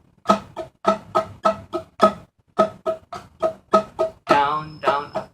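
A ukulele's muted strings are strummed percussively in a down, down, up, down, up, down, up pattern, with sharp evenly spaced strokes repeating the rhythm twice before a final ringing strum.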